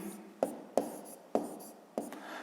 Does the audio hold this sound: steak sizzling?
no